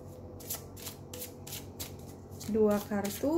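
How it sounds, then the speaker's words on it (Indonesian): Romance Angel Oracle cards shuffled and drawn from the deck, a quick run of crisp riffling bursts in steady rhythm, followed by someone speaking close by. "kita ambil dua kartu dari deck berikut, ya"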